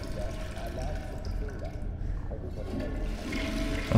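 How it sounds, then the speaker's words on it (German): A toilet flushing in the video game STASIS, a continuous rushing wash of water that runs steadily for several seconds with a slight swell toward the end. "da testet er auch nur die Spülung"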